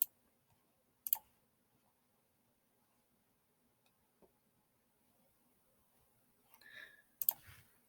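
A computer mouse gives a few quiet, isolated clicks at irregular intervals while navigating a login webpage, with a brief cluster near the end in an otherwise near-silent room.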